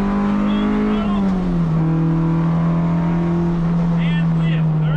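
A Honda Civic EG engine on the Autobahn South race track, giving a loud, steady, droning hum from inside the car with a slight dip in pitch as the throttle is rolled on.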